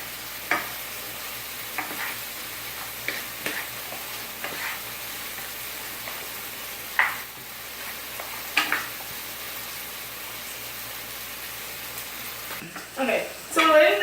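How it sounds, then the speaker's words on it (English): Green beans stirred in hot oil in a pan, with scattered scraping clicks from the utensil over a steady low sizzle and a brief louder clatter near the end. "you definitely want to distribute the oil all throughout the green beans"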